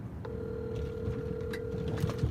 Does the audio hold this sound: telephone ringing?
yes